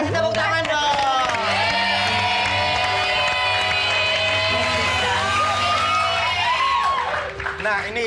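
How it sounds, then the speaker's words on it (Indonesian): Studio audience on an Indonesian variety show cheers and applauds loudly and continuously, with whoops rising over the clapping and music underneath. "Kasih tepuk tangan dong."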